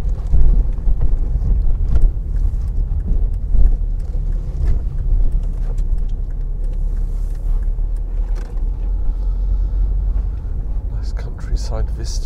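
A car driving around the village of Sturry, a steady low engine and road rumble heard from inside with continuous wind buffeting, loud and unbroken throughout.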